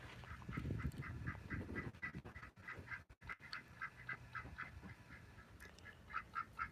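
Young ducks beside a desert pond give a steady series of soft, rhythmic quacks, fairly close but quiet, with bursts of rustling and handling noise in between.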